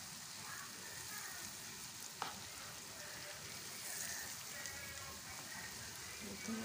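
Beef chaap pieces frying in hot oil in a pan, giving a steady, close crackling sizzle throughout with one brief sharp clack partway through.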